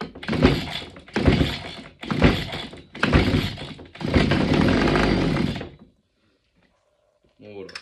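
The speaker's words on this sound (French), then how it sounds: "là on a entendu, le moteur a démarré" Several short pull-start bursts of a small brush cutter engine with a faulty throttle cable, then a sputtering run of about two seconds before it cuts out into silence.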